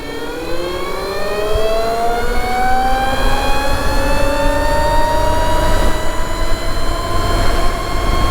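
An engine runs at full power, revving steadily up toward 6,500 RPM, its rising harmonic whine loud, close and continuous with no talk over it.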